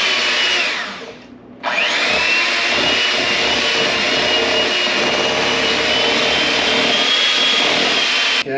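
Electric mixer beating an 8-ounce block of cream cheese for a cherry cream cheese pie, a loud steady whirring drone that dips briefly near the start and then runs on without break.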